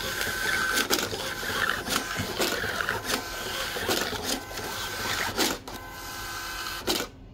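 An Epson TM-T88VII thermal receipt printer running off several receipts in quick succession, a steady fast whirring feed broken by sharp periodic cutter snaps, close and moderately loud with no talking.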